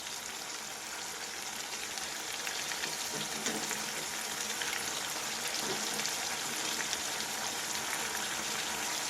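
Fish pieces coated in ginger-garlic and garam masala paste frying in a pan for a Godavari-style sea fish curry, giving a steady, dense sizzle with crackling spatter that runs without break and no voices.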